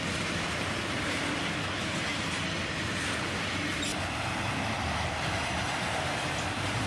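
A long CSX freight train rolls past close by, its tail end going by with a continuous loud roar of wheels and cars, steady throughout.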